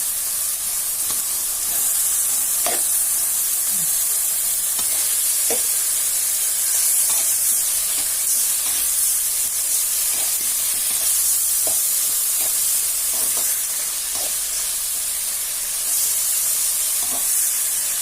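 Green peas are stirred and sautéed in a hot pan after ginger-garlic paste, producing a loud, continuous sizzle and hiss with repeated spoon scrapes and clinks, and no talking.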